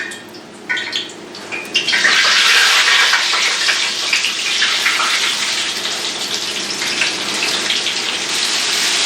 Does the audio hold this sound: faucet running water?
yes